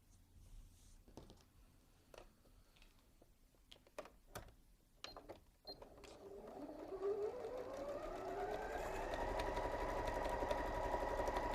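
A home sewing machine stitching quilt pieces for a kids' camp quilt: scattered clicks and handling noises first, then the motor whirs up into a steady, rising mechanical drone that holds loudly to the end.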